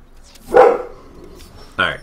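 A dog barks twice in Stronghold Crusader 2, two short separated barks standing out clearly over a quiet game background.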